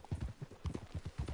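Horse hooves clip-clop in a steady, close rhythm as a horse is ridden at a walk in a video game, with no talk over the footfalls.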